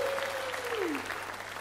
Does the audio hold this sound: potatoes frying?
no